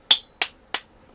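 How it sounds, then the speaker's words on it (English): Three sharp metallic hammer knocks, evenly spaced, drive a part out of a Hoover Junior vacuum cleaner; each strike is close, crisp and quickly decaying, with quiet between blows. "we take the hammer and we knock it through"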